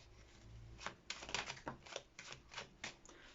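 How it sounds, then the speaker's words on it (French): Three tarot cards drawn and laid down during a reading, a run of soft, close papery snaps and slides in quick succession with no talking. "On va tirer 3 cartes."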